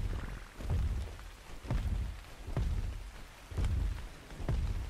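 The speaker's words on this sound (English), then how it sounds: "Also, it was a rainstorm." Rainstorm in ARK Survival Ascended, a faint wash of steady rain with soft, low rumbling swells rising and falling every second or so, with no voices.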